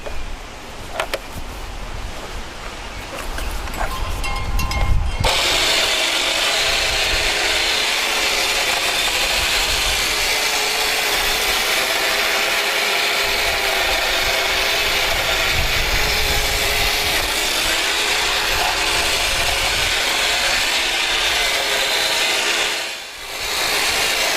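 A power tool drones steadily and loudly close by while bushes are trimmed, a continuous buzzing that runs nearly unbroken through the clip after a brief rougher start.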